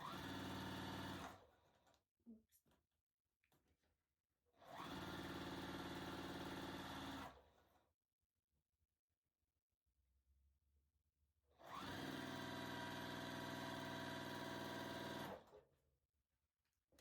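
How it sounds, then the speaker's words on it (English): A sewing machine chain-pieces quilt triangle halves for a box spring quilt pattern, running in three steady whirring bursts of a few seconds each, separated by quiet pauses with faint handling noises. "So you'll sew these two halves together, and then sew those two halves together."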